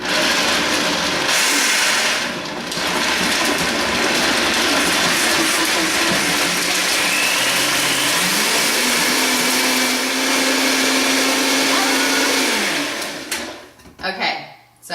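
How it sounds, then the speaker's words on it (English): A food processor whirs loudly through raw strawberry tartlet filling, a dense steady motor drone whose pitch steps up partway through before the machine cuts off near the end, leaving brief bumps and clatter. "if that food processor did not wake my son up, this is bound to do it"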